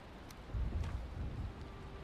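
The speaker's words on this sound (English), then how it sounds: "It's raining." Steady rain with a low rumble of thunder in the Viking survival game Valheim, a continuous wash that swells slightly partway through, with no voices over it.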